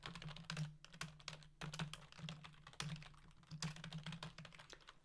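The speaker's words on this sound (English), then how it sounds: "Let me just type this out." Rapid typing on a computer keyboard, close and crisp, with uneven bursts of key clacks and short pauses between them, and no talking.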